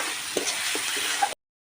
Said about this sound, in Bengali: এবারে এখানে আদা রসুনটাকে আমি ভালো করে ভেজে নিয়ে এখানে আবার দিয়ে দিলাম টমেটোটাকেও একটু নেড়ে নেব